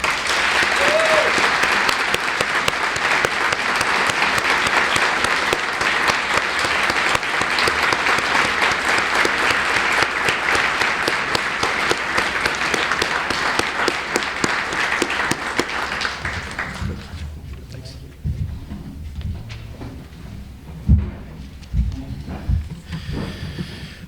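A unity breakfast crowd for Martin Luther King Jr. Day gives a long, steady round of applause that holds for about sixteen seconds before thinning out, leaving scattered room noise and a few faint sounds.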